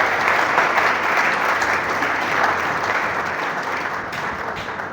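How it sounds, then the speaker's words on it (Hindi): Audience at an indoor gathering applauding the chief guest, a dense, steady burst of clapping that fades slightly toward the end, with no voices. "जोरदार तालियां आपके चीफ गेस्ट को"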